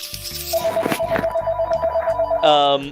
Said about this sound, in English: As the phone rings in the distance